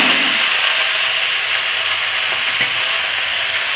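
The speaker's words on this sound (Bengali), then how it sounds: "এবার আমি ওই কেটে রাখা শাক দিয়ে দিচ্ছি।" Chopped bathua and note greens fry in hot oil with garlic, a loud, close, continuous sizzle with a few light stirring clicks and no talking.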